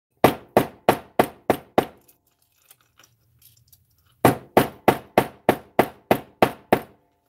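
A quick series of six ringing hammer blows flattening jewelry wire, a pause of quiet handling, then eight more steady strikes, close and loud with no voices.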